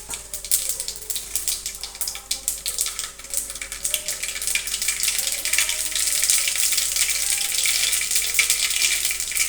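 Mustard seeds and cumin hit hot oil in a pan on a gas stove, a hissing, crackling sizzle that starts patchy and then thickens into a steady, close sizzle.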